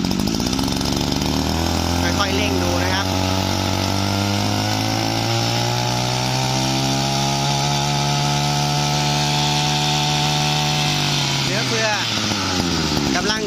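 A small two-stroke engine on a used Japanese Echo AT221G brush cutter revs up loudly and holds a high, buzzing whine for several seconds before dropping back down, close and continuous.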